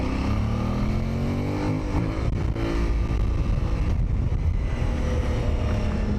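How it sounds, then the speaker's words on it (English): An Aprilia Tuareg Rally motorcycle engine running on a cold day, a steady low rumble heard outdoors with heavy wind buffeting the microphone throughout. "I think it's a very nice engine. It's quite controllable, also with, now it's cold, but also with slow maneuvering."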